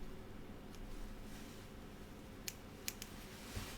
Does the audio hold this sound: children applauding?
no